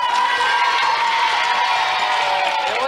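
A television studio audience at a children's show applauds and cheers for a contest winner, a dense, steady wash of clapping and crowd noise sustained loudly throughout.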